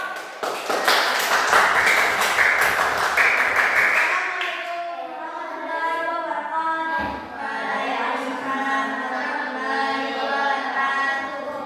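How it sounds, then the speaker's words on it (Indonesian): Brief burst of clapping hands from a small classroom group applauding, several seconds of steady close applause that stops abruptly, followed by a person talking. "Oke, tepuk tangan dulu untuk kelompok"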